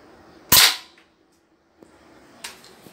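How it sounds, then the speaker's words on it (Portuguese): A single sharp airsoft gun shot cracks close and loud, followed by a quieter click and a faint second snap after a short pause. "Um tiro assim, rapaziada."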